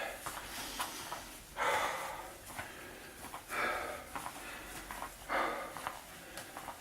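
Heavy, sharp breaths during a fat-burning interval workout, several loud gusts of exhaled air at a rough rhythm, close to the mic, with no talking.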